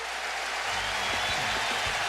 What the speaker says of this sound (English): But listen to the Yankee crowd.